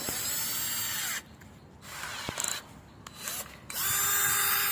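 An IMAX cordless drill spins a bent steel rod in loud whirring bursts, stopping and restarting several times with short pauses between runs.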